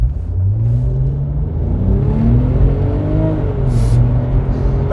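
A 2003 Porsche 911 Turbo accelerates hard from inside the cabin, its engine droning loud and close as the revs climb in rising sweeps and then settle after a shift.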